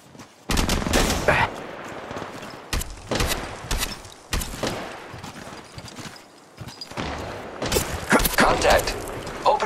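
Gunfire in the battle royale game Apex Legends Mobile: loud bursts of automatic shots in several separate volleys with short gaps between them, sharp and close, over a low game background.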